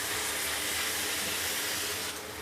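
Marinated beef for a garlic pepper dish hits a hot pan with a loud, dense sizzle that holds steady and eases slightly in the final moment.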